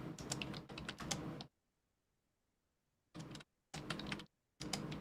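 Rapid typing on a computer keyboard comes in dense bursts of clicks, a long burst followed by silence and then three shorter bursts, close-up and fairly loud.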